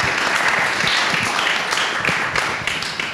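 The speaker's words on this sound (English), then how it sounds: "You can give a round of applause for our speakers." An audience at a decentralized identity panel event applauds the speakers with steady, moderately loud clapping that holds across the room before tapering slightly at the end.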